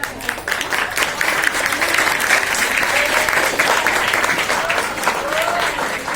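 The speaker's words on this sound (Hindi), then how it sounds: "आप ताली बजाओगे।" A crowd at an English school event honoring community change-makers breaks into sustained applause, loud and even for the full length, with a few faint whistles or cheers rising through it.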